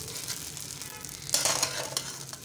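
Folded egg and cheese toast with ketchup fries in a pan, a steady close sizzle with a brighter crackling burst partway through as it is stirred or moved.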